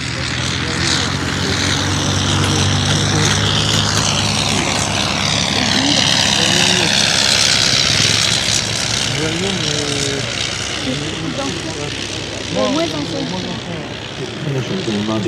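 A vintage Blackburn Monoplane flies past at an air display, its engine and propeller droning steadily and fairly loud while a commentator talks over the sound.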